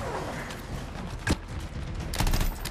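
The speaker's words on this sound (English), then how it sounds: "I got a light machine gun in this mug" A light machine gun fires in Anthem amid busy combat, a loud, dense crackle of rapid shots with a sharp burst near the middle and heavier volleys toward the end, all over constant battle noise.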